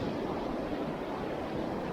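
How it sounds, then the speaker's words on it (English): Steady ocean surf and sea breeze on the Oregon coast, a continuous broadband wash of waves mixed with wind rushing across the microphone, loud and even throughout, with no talking. "This ocean breeze feels so good."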